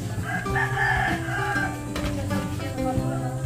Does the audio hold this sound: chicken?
yes